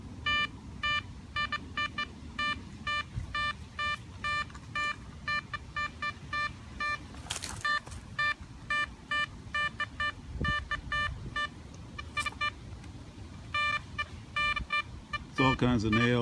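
Blisstool V6 metal detector with a 7x9 coil passes over a dug hole full of nails and iron, producing dense bursts of chirpy beeping tones with a few sharper high squeals and a brief rustle at the end.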